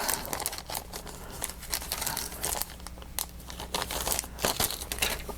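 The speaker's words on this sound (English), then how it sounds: "Get this back in the bag here." Plastic bag crinkling and rustling as a model part from a 1956 Ford Thunderbird kit is slipped back inside, close and continuous with uneven crackling bursts throughout.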